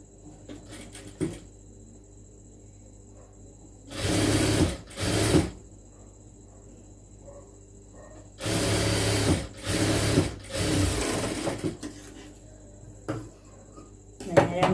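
A sewing machine stitches churidar sleeves in short, loud bursts of rapid mechanical whirring, four runs of about a second each separated by quiet pauses with soft handling noise.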